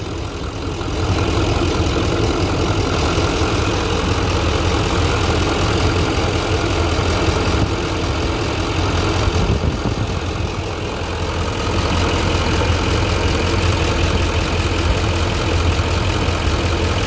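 A 2011 Chevrolet Silverado 2500HD 4WD with a 6.6L Duramax diesel and 200K on it idles steadily, a loud, even low rumble with a faint clattery edge, heard alone.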